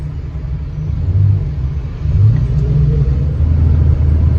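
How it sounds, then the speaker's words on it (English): A 1974 Plymouth Valiant in first gear gives off a steady low engine rumble with a faint rising gear whine, close and continuous, swelling slightly as it pulls. "I always love that whine in first gear."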